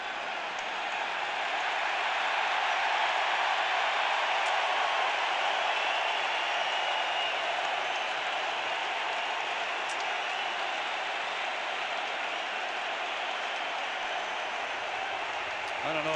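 A large baseball crowd at an ALCS playoff game cheers as an injured player leaves the field, a steady wash of cheering and applause sustained at even loudness throughout, distant and diffuse.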